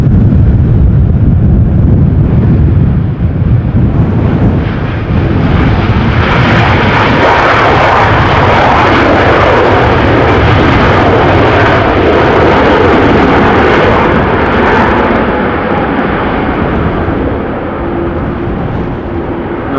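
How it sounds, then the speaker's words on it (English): A Ryanair Boeing 737 MAX 8 landing at Amsterdam Schiphol during a storm, a loud, broad jet roar swelling and holding as the aircraft passes close, mixed with heavy wind buffeting, then slowly easing. "Let's look and listen to the landing of Ryanair MAX 8."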